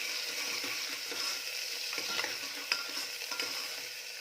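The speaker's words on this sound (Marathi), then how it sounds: "कांदा छान रंग बदलेपर्यंत भाजून घ्यायचा आहे" Finely chopped onion with a pinch of salt frying in hot oil, an even sizzle with a few light stirring scrapes, close and moderately quiet with no voices.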